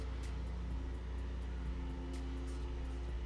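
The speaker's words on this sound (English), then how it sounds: "I know y'all could probably hear them cutting the grass." A lawn mower cutting grass outside drones as a steady low engine hum in the background, continuous and muffled, with a few faint clicks and taps nearby.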